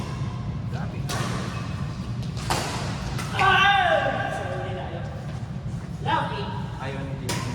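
Racket shots land in an indoor badminton game, several sharp thwacks and thuds spaced a second or so apart, with people talking and exclaiming over them and a squeak of shoes midway.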